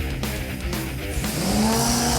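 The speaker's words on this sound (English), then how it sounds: "Nice little burnout right there." Race car doing a burnout at a drag strip, a dense, loud engine roar with tire noise that builds and rises in pitch toward the end, steady throughout the short burst.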